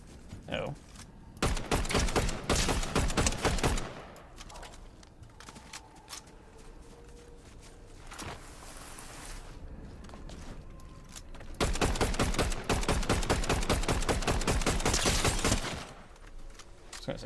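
Rapid automatic gunfire in the video game Fortnite, fired in two long sustained bursts with a quieter stretch between them, and a few faint voice sounds in the gaps.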